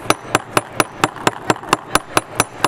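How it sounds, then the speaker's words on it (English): A hand hammer flattens a piece for an ice resin craft project, eleven sharp evenly spaced taps in quick rhythm, close and loud. "So now I'm just going to come in with the hammer."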